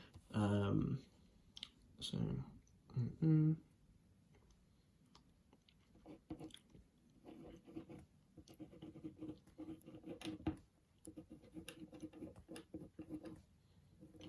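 Pen writing a plan letter by hand on paper, with faint scratchy strokes and small taps, close and quiet, while a person talks at the start.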